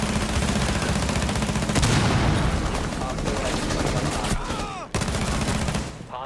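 Rapid gunfire from the tactical shooter Rainbow Six Siege, with dense overlapping bursts that are loud and close for several seconds, then a brief break before a final short burst near the end.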